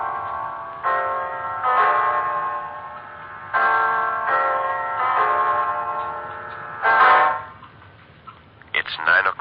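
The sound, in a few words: clock ticking and striking nine in a radio drama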